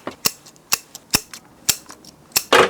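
Sharp scissors snip through the roots of a mugo pine bonsai, a series of about six crisp, close clicks spaced irregularly, each quick and distinct against near silence.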